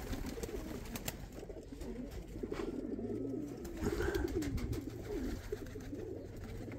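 Domestic pigeons in a loft cooing steadily, a soft, continuous, layered murmur of rolling coos from several birds nearby, with no talk.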